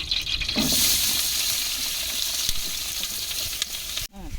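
Onions hit hot oil in a pan on a traditional stove for biryani and fry with a loud, continuous hissing sizzle, close up, ending with a sudden clatter.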